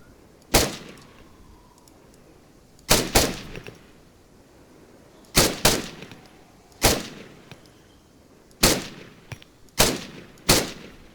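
Gunfire in the ArmA 3 video game sounds as about ten sharp, loud shots, mostly in close pairs spaced a second or two apart, each followed by a short echoing decay.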